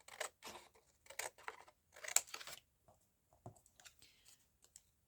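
Scissors snip through paper embellishments in quick bursts of close, crisp cuts, a run of rapid snips followed by a pause and a few sparser cuts.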